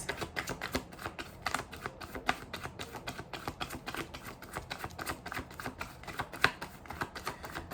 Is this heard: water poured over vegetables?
no